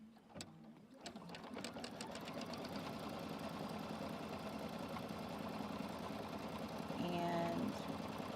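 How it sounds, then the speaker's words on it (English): An embroidery sewing machine stitches a tack-down line on fabric held in a hoop, a steady close, loud rapid mechanical chatter that begins after a brief start and runs on without a break. "it's gonna just do this tack down here so that I can check my placement of my fabric"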